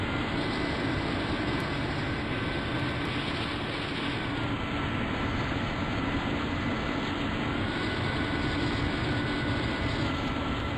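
An A-4 jet aircraft taxiing in the flight sim Strike Fighters 2, a steady whining turbine drone with broad rumble, constant and close with no talk over it.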